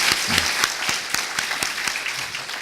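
A church congregation at an Atlanta Sunday service applauds the Hallelujah choir in encouragement, a dense, even wash of many hands clapping together with a few sharper claps standing out.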